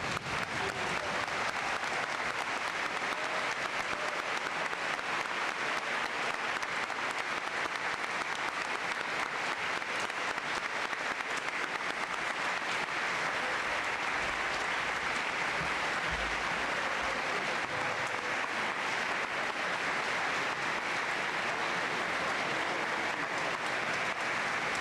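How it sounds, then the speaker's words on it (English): Staff and students at a high school Veterans Day assembly applaud standing for veterans and guests, a long, even roar of many hands clapping in a large hall, sustained at the same level throughout. "Staff and students, please stand and give applause to our guests and veterans here today."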